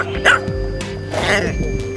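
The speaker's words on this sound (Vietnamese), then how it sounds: "bản năng trong nhà rất tốt, sủa canh gác rất tốt luôn" A two-month-old, 6 kg jet-black male H'Mong bobtail puppy barks loudly and close by, giving a couple of sharp yapping barks with whiny edges against steady background noise.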